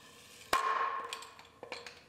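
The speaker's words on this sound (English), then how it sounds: "Now we'll use our actual body hammer to straighten out the wrinkles that are in there." A body hammer strikes a car hood to straighten wrinkles on a Pontiac Grand Am, with a sharp metallic clang followed by a ringing tail and a few lighter taps afterward.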